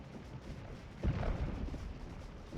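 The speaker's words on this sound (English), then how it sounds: "Counter battery fire, huh?" Counter-battery artillery fire in a Scourge of War Civil War battle rumbles faintly at first, then a low, distant boom swells and rolls away into a soft, sustained rumble.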